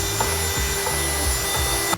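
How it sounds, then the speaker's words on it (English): A shop vacuum sucks up loose plastic shavings and trash inside a Harley-Davidson Tour-Pak during a speaker pod install, giving a steady, close, loud broadband roar with a faint whine and small rattles of debris, with no talking. "I'm gonna go ahead and use a vacuum."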